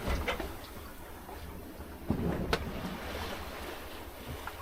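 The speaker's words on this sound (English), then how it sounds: "Quietly, slowly sailing. Being pushed around the world by a breath of wind." A 30-foot sailboat slipping quietly across the open sea toward the South China Sea, with soft continuous water wash and light wind noise, a few faint creaks or knocks rising briefly over the steady hush.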